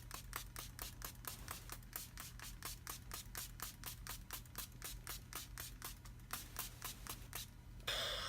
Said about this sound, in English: I'm gonna actually spray quite a bit and let this absorb into the skin to make sure that I lock in my makeup